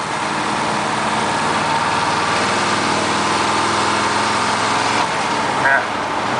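A Chevrolet K30 truck with a 6.2 diesel engine and NV4500 transmission drives along. Its engine gives a steady, close, continuous drone that holds at an even level throughout.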